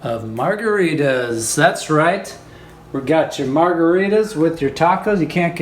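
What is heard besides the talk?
No everyday noise stands out behind the speech.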